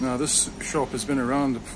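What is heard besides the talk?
No everyday noises stand out.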